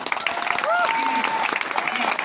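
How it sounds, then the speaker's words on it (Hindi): Seminar crowd in Nasik claps briefly while a voice carries over the top, a short burst of scattered applause mixed with talk and tonal sounds. "अपने आप के लिए जोरदार ताली बजाइए।"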